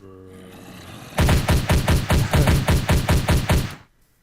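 Rapid burst of about eleven evenly spaced gunshots from a gun in the Minecraft DayZ mod, loud and close, firing in a steady rhythm for under three seconds before stopping.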